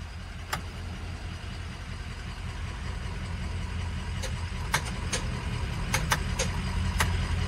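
A Humvee's engine runs with a low, steady rumble throughout, a few sharp clicks and knocks sounding over the continuous idle, close and moderately loud.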